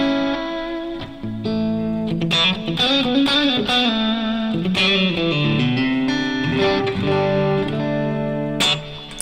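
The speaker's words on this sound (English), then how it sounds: "what I got going on right here is kind of a plex delay, and that just means that it's like reverb" An electric guitar plays a melodic line through a plex delay that combines reverb and delay, with notes smearing into long echoing tails and a slightly distorted, busy high end.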